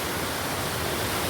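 Small village river flowing after rain, a steady broadband rush of water filling the whole moment, close and even with no voices.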